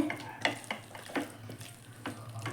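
Masala-coated chicken with tomato cooks in a pan for chicken biryani, a soft steady sizzle broken by several scraping stirs of a spoon against the metal, close and fairly quiet with no talking.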